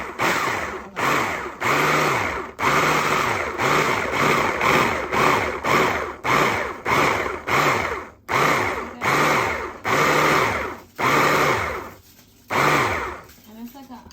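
A kitchen blender on its turbo setting runs in a quick series of short, loud pulses, each with a rising and falling motor whine, stopping briefly between bursts.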